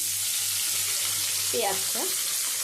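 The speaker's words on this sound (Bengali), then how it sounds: "আলুগুলো ভেজে তুলে নেওয়ার পরে যে তেলটা ছিল সেই তেলের মধ্যে দিয়ে দিচ্ছি" Thinly sliced onions dropped into hot leftover oil from fried potatoes, a steady loud broadband sizzle with a couple of short scraping sounds near the end.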